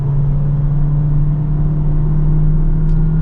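A 2026 Jeep Cherokee Overland with a CVT accelerates hard, giving a loud, steady droning hum that holds one pitch, heard close from inside the cabin with no voices.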